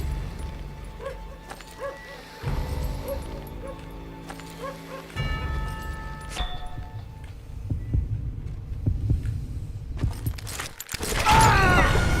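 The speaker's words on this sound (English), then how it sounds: "When you hear heartbeat, you are ready to shoot." Heartbeat cue from the Western shooter game Call of Juarez Gunslinger, a repeating low thump pulsing steadily through game music and ambience, with the whole mix swelling louder near the end.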